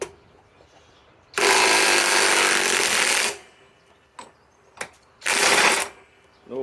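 Flex FX 1451 mid-torque impact wrench on a 3.5 Ah stacked lithium battery, running in reverse at speed 3 to remove a big 1 1/2 inch nut: a loud two-second hammering burst, brief taps, then a second shorter burst.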